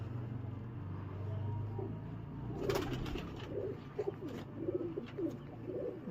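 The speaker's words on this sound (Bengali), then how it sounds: "কবুতরটা অনেক চটপটে অ্যাক্টিভ একটা কবুতর" Pigeon cooing, probably from a high flyer bird, comes as soft low rhythmic coos near the mic over steady background hum, with a few sharper bird sounds and rustles later on.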